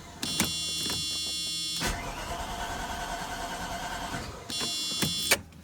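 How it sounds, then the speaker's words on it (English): A 1991 Mercedes 500SL on a cold start with an electrical issue: a short whirring crank, a stretch of steady mid-level engine noise, then another brief cranking burst near the end. "Let's see how it starts. See, it still cranks."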